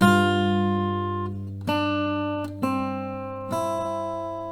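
Acoustic guitar picks out the G section of a melody alone, several clear plucked notes ringing out one after another with long sustain.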